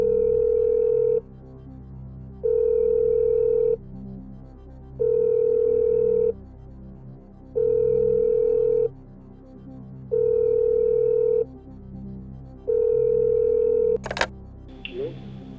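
A telephone ringback tone repeating six times in steady, evenly spaced beeps, followed by a click as the call connects.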